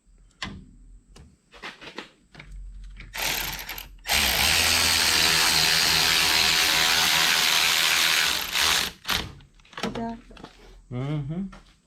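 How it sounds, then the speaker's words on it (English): A ratchet wrench bolting down the radiator on a 2020 Can-Am Maverick X3 XRC RR, with short clicking ratchet strokes around a long, loud, continuous whir, close by, while people talk. "Shroud's in, bolting the radiator down."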